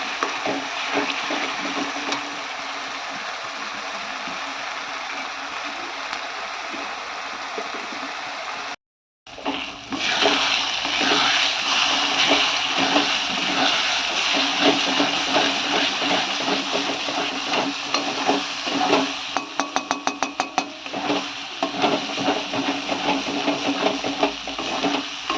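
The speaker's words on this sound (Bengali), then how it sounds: "তো মশলাটা আমি আগে কষে নিচ্ছি।" Spice paste of ginger, garlic and black pepper sautéed in a pan for chicken curry, a loud continuous sizzle and scraping with a brief silent gap midway, then rapid clattering stirring toward the end.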